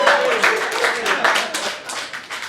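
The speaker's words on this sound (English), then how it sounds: "I don't know why I just clapped for myself" One person on stage at a comedy club claps their hands, a quick uneven run of sharp, close claps, with a voice faintly underneath.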